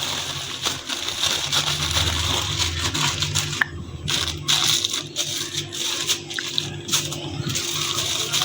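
A thin plastic bag is folded and wrapped around a chocolate-sauced biscuit dessert, producing close, irregular crinkling and rustling throughout.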